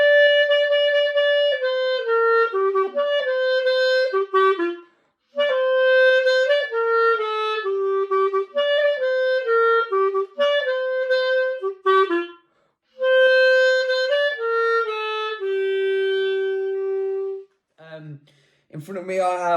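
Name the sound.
clarinet playing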